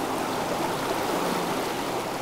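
Clear, cold Abrams Creek in the Tennessee mountains flows from the peaks as a steady, even rushing wash of water with no other sounds.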